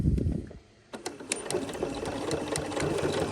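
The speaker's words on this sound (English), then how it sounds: "we're going to stitch at 5/8 of an inch all the way around" A sewing machine top stitches fabric at a steady whirring pace after a brief pause, the needle running continuously and fairly close.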